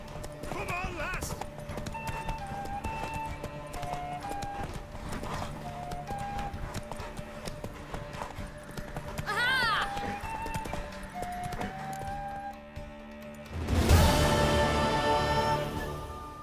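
Horse hooves clip-clop steadily in The Witcher 3, with a brief neigh partway through and a louder burst of movement near the end. Game music plays and voices talk over it.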